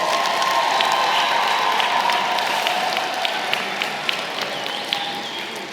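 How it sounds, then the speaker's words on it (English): Applause for graduates at a university commencement ceremony, a large crowd clapping steadily with some cheering in a big hall, gradually thinning toward the end. "Can we get one more round of applause?"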